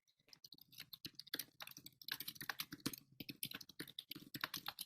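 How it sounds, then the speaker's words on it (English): Quiet, rapid clicking of keys being typed on a computer keyboard, uneven bursts of keystrokes close by with no voices. "Typing that."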